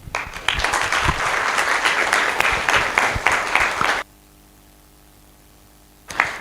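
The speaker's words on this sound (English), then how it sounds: "A round of applause, ladies and gentlemen." Loud, dense applause from a conference audience for a chief guest speaker at a community development foundation event, continuing for about four seconds, cutting to near silence, then resuming abruptly at the end.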